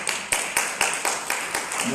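Rhythmic audience clapping at a customer service week convention in Botswana, with loud, regular claps roughly every quarter second over a steady crowd wash and background chatter.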